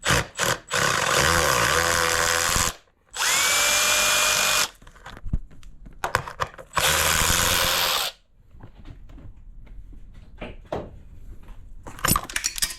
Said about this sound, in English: The next step is to come here and remove the SAS bracket. It's an 8mm socket and just 2 bolts.